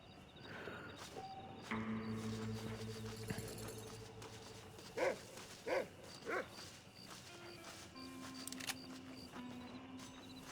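A dog barking in the western game Red Dead Redemption, a few short loud barks in the middle amid town ambience, hoofbeats and background game music, no talking.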